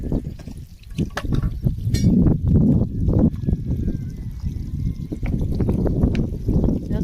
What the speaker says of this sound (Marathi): पाणी चाललंय द्यायचं.